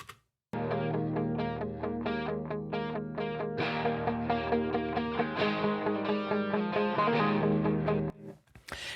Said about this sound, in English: How would it be without the delays? With these three delays.